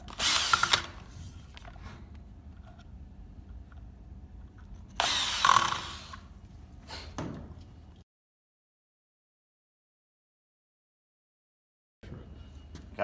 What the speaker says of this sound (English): Phillips head driver.